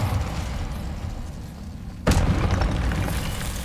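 Confringo explosion spell in Hogwarts Legacy: a single sharp blast cuts in after a stretch of rumbling game noise, followed by a sustained loud roar and crackle.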